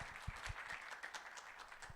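An audience at a university alumni reunion for public accounting graduates applauds. Steady, diffuse clapping sounds faint and distant, with no voices over it.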